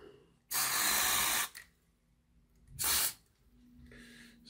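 Two sharp aerosol bursts of contact cleaner sprayed onto a Hornby R2359 Black 5 model locomotive, a long hissing blast followed by a shorter one, loud and close in a quiet room.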